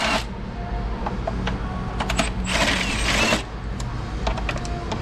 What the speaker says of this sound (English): I need an 8mm on a 1/4-inch drive electric ratchet. We'll start pulling these bolts off.